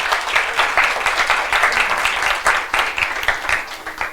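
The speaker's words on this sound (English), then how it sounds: "इनके लिए बहुत ज्यादा तालियां बजाते हैं।" Audience applause at a church sermon, a steady dense patter of many hands clapping throughout, fairly loud and continuous with slight swells and dips.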